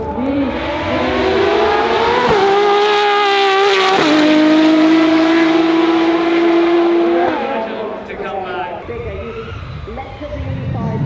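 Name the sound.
Pagani Mercedes-developed V12 race car engine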